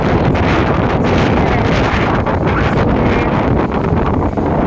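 Strong wind roars steadily across the microphone on a waterfront promenade, a loud continuous buffeting rush with no breaks for the whole stretch.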